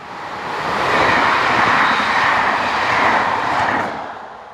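Two Belgian electric multiple units, an AM73 and its sister AM79, round a curve on a line toward Liège; a broad, steady rumble of rolling stock swells up, holds for several seconds and then fades.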